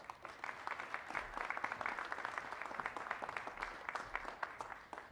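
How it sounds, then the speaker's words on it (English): An audience applauds steadily at a Houston Host Committee event marking 500 days until the FIFA World Cup 2026, a dense round of clapping heard from a distance, fairly faint and lasting throughout. "you got a nice round of applause there"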